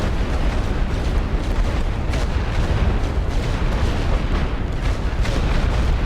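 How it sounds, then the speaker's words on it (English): Light artillery in The Great War: Western Front thunders continuously in a dense rolling barrage of booms and bursts, loud and unbroken, with no voices heard. "the light artillery is not super effective"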